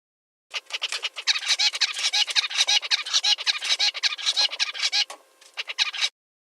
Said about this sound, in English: Another bird song might sound like this.